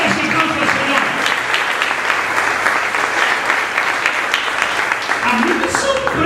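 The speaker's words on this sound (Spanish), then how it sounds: "Denle ese aplauso al Señor." A church congregation applauds the Lord, a dense, steady wash of clapping that carries at full strength from start to finish, with a voice murmuring faintly underneath.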